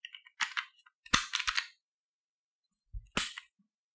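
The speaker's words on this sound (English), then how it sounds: "Now I'm going to put the slide back on to demonstrate something different." A Canik MC9 pistol slide goes back on the frame with a few sharp metallic clicks and snaps in short bursts separated by silence, close and fairly loud.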